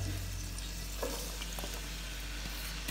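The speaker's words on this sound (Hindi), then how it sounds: "इन प्याजों को हम करेंगे गोल्डन ब्राउन" Onions frying in hot cooking oil for a lentil tarka, giving a continuous dense sizzle with a few faint stirring clicks, close and steady throughout.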